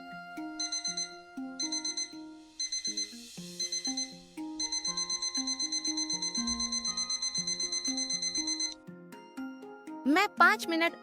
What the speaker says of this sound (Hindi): अगले दिन सुबह अलार्म बजा।